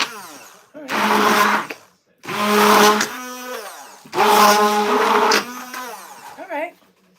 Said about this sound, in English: So I'm gonna try to do this with an immersion blender and see how it works out.